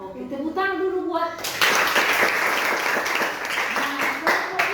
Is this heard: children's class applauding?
yes